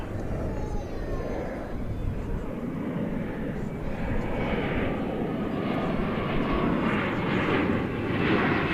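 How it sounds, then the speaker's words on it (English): An airliner arriving at DFW Airport on the flight from Monterrey, its steady jet roar building gradually and growing louder as it approaches, with faint talk in the background. "So here comes the flight from Monterrey"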